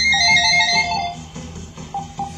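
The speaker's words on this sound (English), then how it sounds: "phone ringing" A phone ringtone sounds loud and close for about a second, a bright electronic melodic tone that cuts off, followed by quieter background sound.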